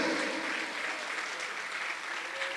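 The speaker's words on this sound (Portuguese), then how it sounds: "Pode aplaudir, querido, pode aplaudir, aplaude o Senhor" A church congregation in São Vicente applauds in a steady, even wash of clapping, fairly distant and soft, with no speech over it.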